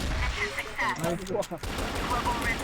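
Rapid gunfire from the CrossFire first-person shooter, bursts of shots mixed with game effects and voices talking over the action throughout.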